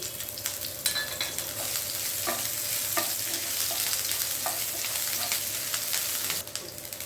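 Chopped green chillies dropped into a mustard seed tempering frying in a pan for sambar, a close, continuous sizzle with stirring scrapes and light taps of a spoon against the pan.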